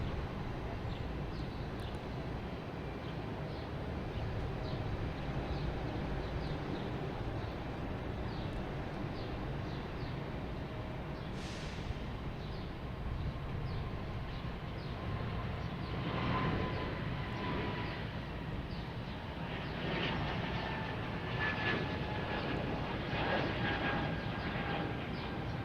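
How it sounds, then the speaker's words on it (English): JetBlue Airbus A220 airliner at Boston Logan Airport, a steady broad jet engine roar that persists throughout, fairly loud and sustained, with slight swells in the latter half. "here's the JetBlue and A220 heading to Raleigh,"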